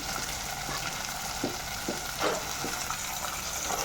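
Black chickpeas and brinjal are sautéed in a pan with a constant close sizzle. Soft scraping stirs recur every half second or so. No voices are heard.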